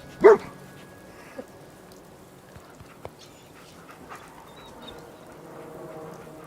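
Dogmeat, the dog from the game Fallout 4, gives one sharp bark near the start, followed by a few faint scattered sounds over a quiet ambient background.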